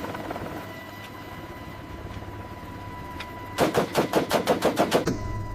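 A Viper attack helicopter flies, its steady engine hum and faint rotor thrum giving way to a loud run of rapid, evenly spaced rotor thumps or bursts near the end.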